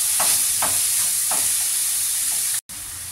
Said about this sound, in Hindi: और ये थोड़ा सा सोया सॉस। अब इसे अच्छे से कर लेंगे मिक्स